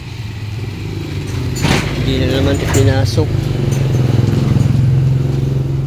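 A motorcycle stands outside during a quiet holiday, with a steady low engine-like hum running throughout and a brief rattling clatter midway, while people talk close by over it.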